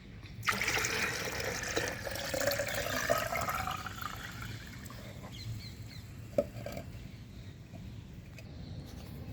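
Water pours into a homemade liquid fertilizer mix for fruit plants, a steady splashing fill that is loudest early on and then fades to a softer trickle, with a faint knock near the end.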